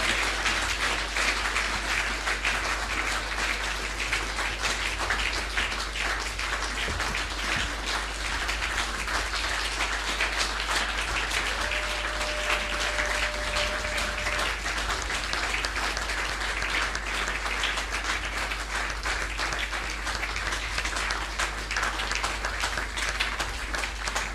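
A church congregation applauding and acclaiming God at a Sunday service, dense sustained clapping from a large crowd filling the room for the whole stretch, loud and unbroken.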